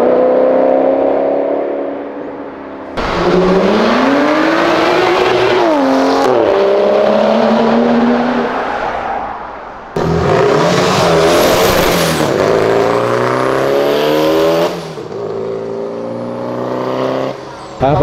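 A sports car roars along a city avenue, its engine climbing loudly through rising revs with sharp gear changes and fresh pulls, close and powerful, while excited voices sit faintly underneath.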